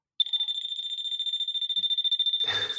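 A voltage tester pen held near an unshielded lamp wire emits a steady, rapidly pulsing high-pitched electronic beep that continues close and loud throughout, with a brief rustle of handling at the end.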